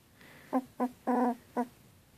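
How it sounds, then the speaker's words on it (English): A small puppy lets out four short, high whimpers close by, one slightly longer than the others, with brief quiet gaps between them. "There's some little puppy noises."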